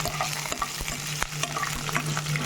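Curry leaves and green chillies frying in a pan for lady's finger curry, giving a steady soft sizzle broken by light stirring scrapes, close and alone.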